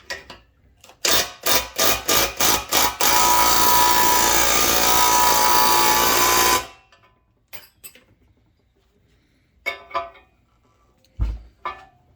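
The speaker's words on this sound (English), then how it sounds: "I'm going to use my impact to take it the rest of the way." A pneumatic impact wrench works on a control arm bushing of a 1974 Pontiac 455 Trans Am, first in a string of short hammering bursts and then in one long, loud, sustained rattle before it stops, leaving faint knocks.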